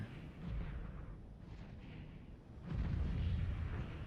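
Heavy starship cannons firing during a space battle in the X4: Star Wars mod, deep rumbling booms swelling and rolling, with a louder sustained barrage in the final seconds.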